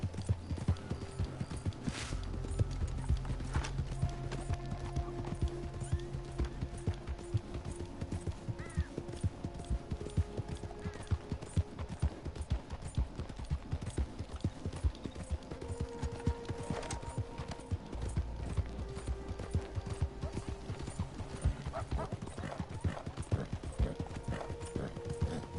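A horse in the Red Dead Redemption 2 video game gallops steadily, its hooves clip-clopping in a fast, even rhythm that stays close and continuous the whole time.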